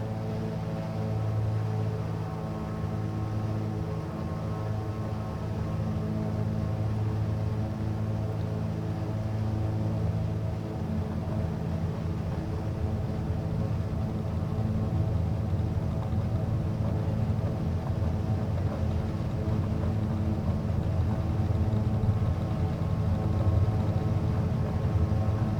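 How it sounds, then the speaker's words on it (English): Twin aircraft engines in Microsoft Flight Simulator 2020 drone steadily at close range, a dense low hum with layered harmonic tones that holds level and swells a little in the second half, with no talk over it. "Oh, listen to those twin engines."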